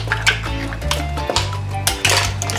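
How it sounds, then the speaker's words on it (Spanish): Seafood for a white-wine mariscada clatters into a pan and is stirred, giving close, irregular metallic scrapes and knocks of utensil against cookware over a low steady hum. "Ahora sí, vamos a agregar nuestros mariscos."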